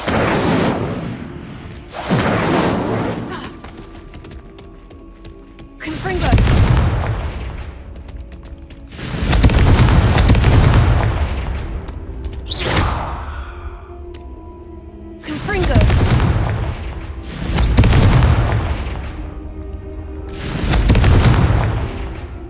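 Repeated Confringo blasting-curse explosions in the Hogwarts Legacy game, seven heavy booming bursts spaced a few seconds apart, each a loud broadband blast with a rumbling decay, over a low steady background.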